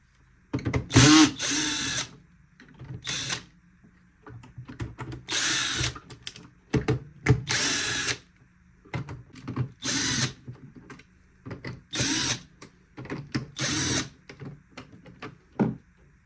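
A power screwdriver backs out the bumper and body screws of a Roborock robot vacuum under repair, whirring in about a dozen short bursts of one to two seconds, with pauses between runs.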